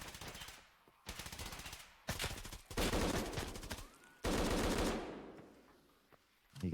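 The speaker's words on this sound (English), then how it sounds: "You can hear Unknown putting those bullets downfield as well" Rapid automatic gunfire in a competitive esports match of the shooter game Arena, coming in several dense bursts with brief gaps, moderately loud and fairly close, with a few isolated shots in between.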